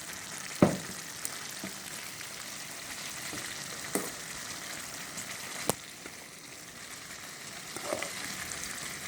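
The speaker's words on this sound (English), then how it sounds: "I'm going to take the basmati rice and put it inside this gravy" Basmati rice is tipped into a chicken biryani gravy in a wok and sizzles at a steady, moderate hiss, with a few sharp clinks and scrapes scattered across the frying.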